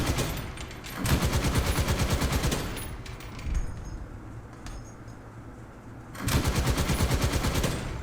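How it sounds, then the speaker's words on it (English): Machine gun on an ISU-152 Soviet tank destroyer in War Thunder, firing two long rapid bursts at the start and end, loud and close, with a quieter pause between. "I don't seem to be able to do anything to those bigger trees with a machine gun."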